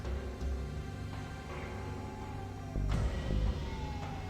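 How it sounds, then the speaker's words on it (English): Police sirens wail in the distance in a game scene, rising and falling tones heard faintly beneath background music and ambient noise, with no speech over them. "I could faintly hear police sirens in the distance."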